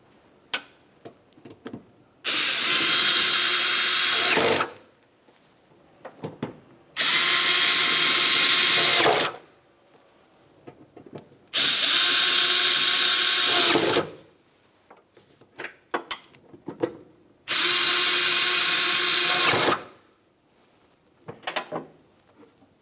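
Power tool driving the four 11mm liftgate mounting nuts on a Ford Flex, four loud whirring bursts of a few seconds each separated by quiet pauses with faint handling clatter.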